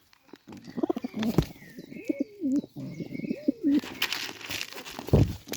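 Pigeons coo in repeated rolling phrases at a pigeon feeding show, close by, with a few chirps and rustling wing noise around them.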